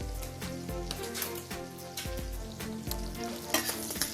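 Bacon fries in a pan with a steady, close crackling sizzle and occasional louder pops, running continuously beneath tonal background music.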